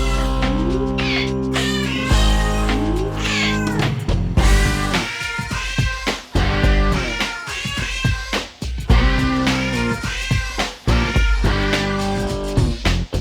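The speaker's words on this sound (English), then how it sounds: "they'll then get together and sing a cat cover of a well-known song" Cats in a PlayStation 1 video game meow in a melodic sequence covering a song, with loud, continuous tonal cat cries stepping through the tune alongside percussive hits.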